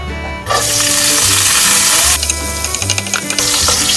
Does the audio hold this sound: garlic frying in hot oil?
yes